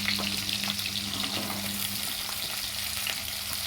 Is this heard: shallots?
yes